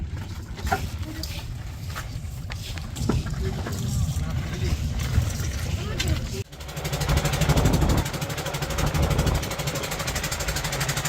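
A fishing trawler on a Hilsa fishing trip motors through water near Bhasan Char, its low engine drone steady and close for the whole stretch, with voices and wind noise over it.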